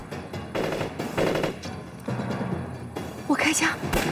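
Bursts of machine gun fire from a war film, with Japanese paratroopers attacking Communist positions, come in several rapid volleys separated by short gaps. A sharper crack sounds near the end.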